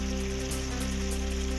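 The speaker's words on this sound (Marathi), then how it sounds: "2 दिवसांच्या विश्रांतीनंतर दापोलीसह खेड आणि चिपळूणमध्ये मुसळधार पाऊस" Heavy monsoon rain falls in Dapoli, Khed and Chiplun as a steady, dense hiss of downpour, moderately loud and unbroken, with no voices.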